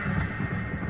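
Galloping horse in the Red Dead Redemption video game, a steady rhythmic clip-clop of hooves close and loud with a whinny mixed in and no talk.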